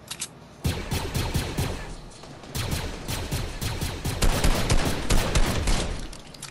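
Blaster gunfire in a video game erupts after a brief quiet start. Dense, loud volleys of shots keep firing in quick succession with little pause.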